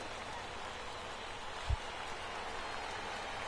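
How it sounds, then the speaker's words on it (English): Steady rain pours down on a baseball field in MLB The Show 18, a dense, even hiss holding throughout with one brief low thump near the middle. "It's raining cats and dogs out there."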